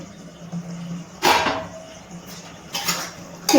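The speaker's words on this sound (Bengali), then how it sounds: "5 মিনিট পর ঢাকনাটা তুলে নিচ্ছি।" A metal lid lifted off a cooking pan of chicken keema on a gas stove, two short clattering scrapes spaced about a second and a half apart, close and moderately loud over a faint low hum.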